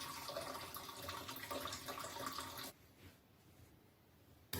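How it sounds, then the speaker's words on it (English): Hot macaroni cooking water pours out in a steady, loud rush for about two and a half seconds, then stops abruptly, leaving a faint, quiet tail. "First, drain all the water."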